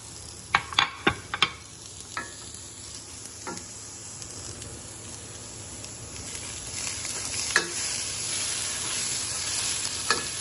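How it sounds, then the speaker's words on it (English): Onions sauté in a pan with a soft, continuous sizzle and hiss, while a few sharp utensil clacks come early and an occasional stir or scrape follows, no one talking. "the onions are just gonna saute down until they become translucent"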